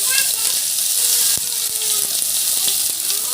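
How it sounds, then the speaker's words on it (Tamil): Finely chopped onion sautéing in a hot pan for pori upma, a continuous bright sizzle with a few sharp clicks of a spatula against the pan, fairly close. "இப்போ வெங்காயத்தை அப்படியே வதக்கிக்கலாம்."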